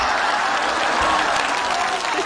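Neighbours gathered in a courtyard applaud in a steady, continuous round of clapping that fills the whole moment, with no talk over it.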